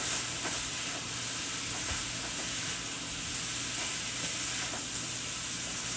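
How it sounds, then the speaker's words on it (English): Pork fried rice sizzles steadily in a hot pan while being stirred, a close, even frying hiss with faint scraping, with no talking. "Let me just get this mixed around here."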